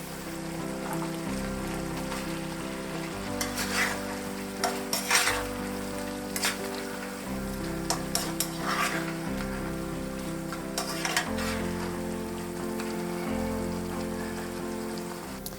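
Mushrooms frying for a Hungarian goulash pasta sauce, a steady rain-like sizzle in a pan with occasional scraping stirs, close and continuous under a low background hum.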